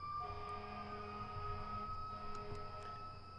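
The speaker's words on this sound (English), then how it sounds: "And now you guys probably hear sirens." A siren wails outside a room, steady held tones layered over a low rumble, faint and distant-sounding throughout.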